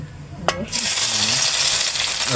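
Ginger dropped into a hot pan while beef cooks, a short clink followed by a steady, loud sizzle that fills the rest of the moment.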